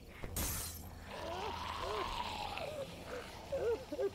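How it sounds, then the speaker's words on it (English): A car window shatters from a thrown spark plug porcelain shard in Telltale's The Walking Dead game, a sharp loud crash and spray of glass at the start, followed by low ambient game sound and scattered tones. "a tiny piece of porcelain can just smash a window like that"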